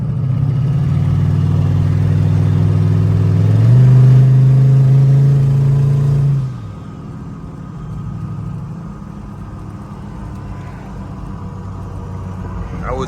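A boosted 2003 Chevy Tahoe engine pulls loud and steady with a deep drone rising in pitch, then drops off sharply as the throttle lifts, leaving a quieter low rumble of cruising.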